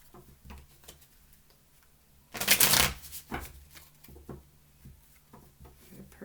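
Tarot cards shuffled three times for a love reading, with a loud riffling burst in the middle and lighter card taps and shuffles around it, heard close up with no one talking.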